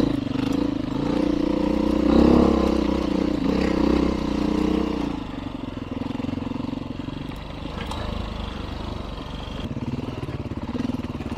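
A 31-year-old Beta dirt bike fitted with a 13-tooth front sprocket, its engine droning and pulsing steadily while riding, loud and close, easing off slightly partway through with some rattling clatter.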